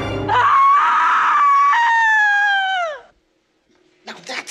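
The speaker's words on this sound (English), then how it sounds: "Now that's a scream!" A woman's long, piercing scream from the thriller film Blow Out, loud and close, wavering and held for nearly three seconds before cutting off, followed by brief silence and then people talking.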